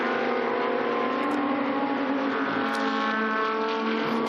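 GT2 race cars, Porsche among them, run at the Dijon circuit in a European GT2 series race, engines droning loudly and steadily with a harmonic whine throughout and no talk.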